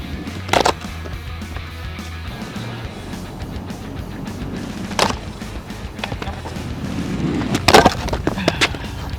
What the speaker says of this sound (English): Emery wants me to try to ride an ollie on this thing with this penny board, mind you, and ride down the entirety of it right off the other side